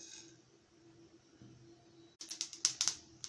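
Mustard seeds splutter in hot oil in a pan for a Tamil Chettinad masala seeyam, first as a quiet hiss, then as a run of sharp, loud, irregular pops and crackles.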